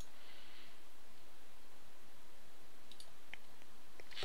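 A computer mouse gives a few faint, quick clicks near the end over a quiet hiss of background noise.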